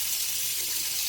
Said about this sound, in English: So now I'm just going to turn this water on, because I just need a little bit of water in there.